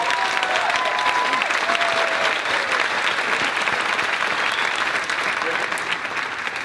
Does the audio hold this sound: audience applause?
yes